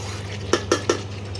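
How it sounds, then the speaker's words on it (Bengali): Fried potatoes stirred with spices in a metal pot for chicken curry, three sharp spoon-on-pot clinks in quick succession over a low background hum. "একটু ভাজা আলুগুলো মশলার সঙ্গে মিশিয়ে নিই"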